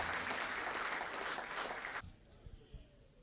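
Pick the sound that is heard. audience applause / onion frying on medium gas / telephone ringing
audience applause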